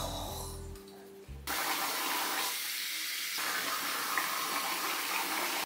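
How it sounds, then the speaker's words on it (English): Water runs steadily from a tap into a sink as a face mask is rinsed off, a continuous broadband rush lasting several seconds after a brief low thump at the start. "And I think I rinse it off now."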